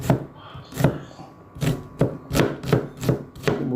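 Onion being chopped with a knife on a board, close and crisp, about eight sharp thuds in an uneven rhythm that quickens toward the end, with nobody talking.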